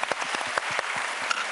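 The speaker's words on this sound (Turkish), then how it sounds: "Kocaman alkış!" A small group in a home setting claps briefly at a game show, with a short run of distinct, close claps.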